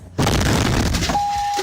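A truck crash from dash cam footage, heard as a loud sudden boom that becomes a sustained roar of impact noise, followed by a high steady tone near the end.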